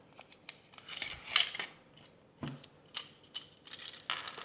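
Tape being peeled off the parts of a 1/48-scale P-61 Black Widow model kit, heard as short, close crackling and ripping bursts at an irregular pace with quiet gaps between them.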